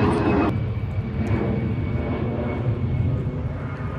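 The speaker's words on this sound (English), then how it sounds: "Y'all hear that plane in the background?" An airplane passes overhead in Miami, a steady, fairly loud engine drone that fills the background without a break.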